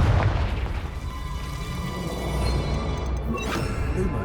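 A Confringo spell explosion in Hogwarts Legacy booms at the start with a deep low burst, then fades into a lingering rumble and crackling game effects that stay moderately loud.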